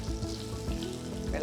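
Crushed garlic drops into hot oil in a pan for pork varattiyathu, giving a brief, close crackling sizzle.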